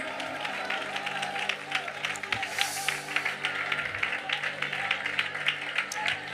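Church congregation at a Malayalam Christian service clapping and cheering together, a busy continuous wash of applause with rhythmic claps and voices rising briefly mid-way, close and fairly loud.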